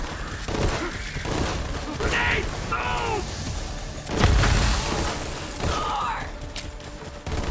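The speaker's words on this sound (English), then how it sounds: "I love the explosion." An explosion from a legendary weapon in Borderlands 3 on Mayhem 10, a broad low boom near the middle surrounded by busy gunfire, mechanical clatter and game sound effects, with a voice talking over the action.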